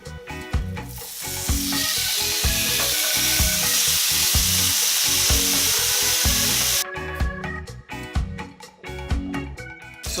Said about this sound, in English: on a preheated pan on medium to medium high heat, we're gonna add our bacon.